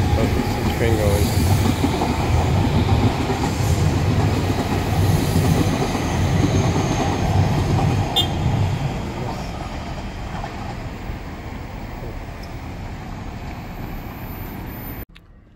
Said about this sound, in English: Oh, there's a train going.